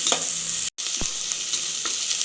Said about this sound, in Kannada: ಒಂದು ಸ್ಪೂನ್ ಶುಂಠಿ ಬೆಳ್ಳುಳ್ಳಿ ಪೇಸ್ಟ್ ಹಾಕ್ತಾ ಇದ್ದೀನಿ ಇದನ್ನೊಂದು ಹಸಿ ವಾಸನೆ ಆಗೋ ತಕ್ಕ ಒಂದು ಹತ್ತು ಸೆಕೆಂಡ್ ಫ್ರೈ ಮಾಡಬೇಕು ಈರುಳ್ಳಿ ಜೊತೆ